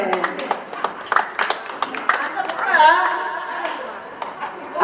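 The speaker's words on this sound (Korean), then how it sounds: "여러분 큰 박수 주세요." An audience claps at an outdoor troupe performance in a rose park, with scattered hand claps and clapping bursts mixed with lively voices talking and calling out over them.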